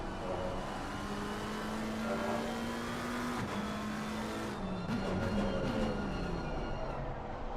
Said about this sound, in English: Mayfruit just trying to feather the throttle there on the McLaren